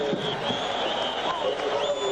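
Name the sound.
stadium crowd cheering at Rose Bowl football game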